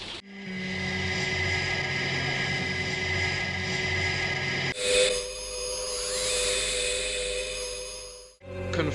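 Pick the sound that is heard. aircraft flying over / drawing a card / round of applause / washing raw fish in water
aircraft flying over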